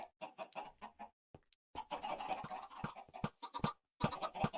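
Baby chickens clucking in the Minecraft video game, a run of short clucks and chirps in quick irregular bursts with brief pauses, close and fairly quiet, no talking.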